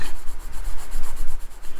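A pencil pressed hard against paper shades a dark tone bar, a loud close scratchy rubbing in quick, regular back-and-forth strokes.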